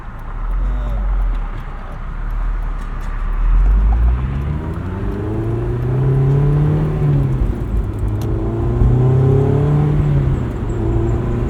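A Honda S2000 engine rises and falls in pitch through quick gear changes, several rev climbs each cut off as the clutch goes in and the revs drop, heard from inside the car with road noise underneath.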